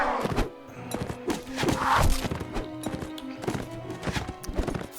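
Rapid clip-clop of horse hooves in the medieval combat game Mount and Blade Warband, a brisk galloping rhythm of thuds mixed with clanking and game effects, close and prominent.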